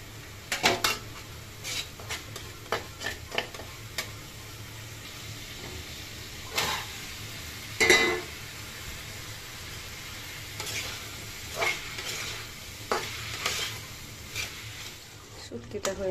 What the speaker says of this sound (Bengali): মূলা আলু আর ময়লা শুটকি দিয়ে রান্না করলাম